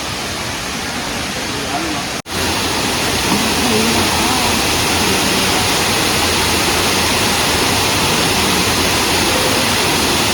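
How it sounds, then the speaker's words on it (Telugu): A small waterfall in Coorg roars as a dense, steady rush of falling water, loud and close throughout, briefly cut at one moment and then continuing unbroken. "ఇది చిన్నపాటి వాటర్ ఫాల్స్, ఫుల్ అప్ కాదు."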